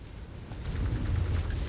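A destroyed mech explodes in the MechWarrior 5 video game, a heavy rumbling boom that swells and rolls on with crackling debris for over a second, loud and close.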